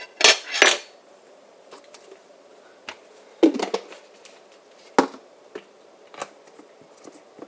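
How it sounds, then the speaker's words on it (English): A knife spreads mayonnaise on slices of bread while making cod fish sandwiches: sparse clicks and scrapes of cutlery against a plate, a louder clatter at the start, then faint intermittent taps in a quiet kitchen. "you add a little bit the mayonnaise on the slices of bread"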